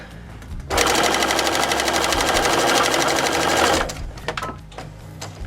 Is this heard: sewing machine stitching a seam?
yes